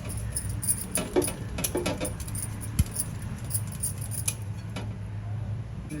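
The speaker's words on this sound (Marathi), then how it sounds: "दही आपण छान मिक्स करून घेऊया." Curd (yogurt) being whisked in a bowl for kadhi gives light, irregular clinks and scrapes of a utensil against the bowl, quiet and close, with no talking.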